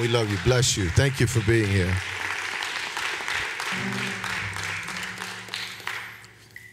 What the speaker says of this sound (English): Clap your hands for our visitor one more time.